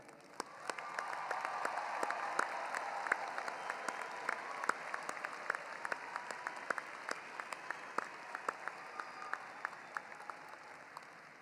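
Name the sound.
audience applause at a graduation ceremony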